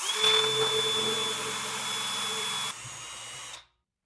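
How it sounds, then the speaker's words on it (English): A drill bores a hole through a Ryobi 48V battery bracket with cutting oil added, giving a close, high, steady whine that drops in pitch near the end and then cuts off abruptly. "add a couple drops of cutting oil and drill the hole the rest of the way through"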